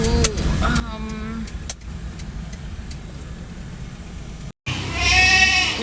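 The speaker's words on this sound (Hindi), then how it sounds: "ये मेरी बकरा मंडी देखें ज़रा आप" Goats bleat repeatedly at an outdoor goat market, several wavering cries close by at the start and again at the end, over steady background hubbub and vehicle noise.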